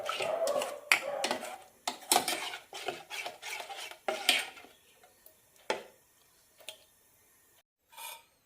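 A spoon or whisk stirs thick banana bread toast batter in a bowl, making quick rhythmic clinks and scrapes against the bowl. The stirring slows to a few scattered taps near the end, close up and with no talking.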